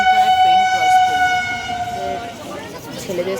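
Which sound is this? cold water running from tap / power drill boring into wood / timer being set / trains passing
trains passing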